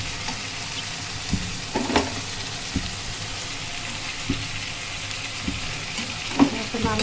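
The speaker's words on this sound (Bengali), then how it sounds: "এখন মশলাটাকে ভালোভাবে কষিয়ে নেব। আর এই পাশে আমার আলু ভাজিটা হচ্ছে।" Masala being sautéed beside potatoes frying in a home kitchen pan: a steady close sizzle with scattered stirring scrapes and clinks, and no talk.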